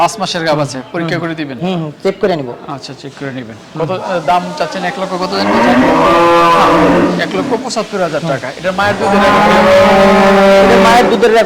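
Large dairy cows mooing on a farm in Tangail, with long, loud, drawn-out lowing calls that swell midway and near the end, heard amid people talking.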